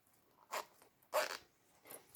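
A zipper is pulled closed on a trapezoid-shaped toiletry bag in two short, quiet zips separated by a pause, with a fainter rasp near the end.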